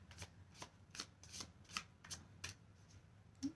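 Playing cards being shuffled by hand, a soft series of about ten riffling bursts at an even rhythm, quiet and close with no talking.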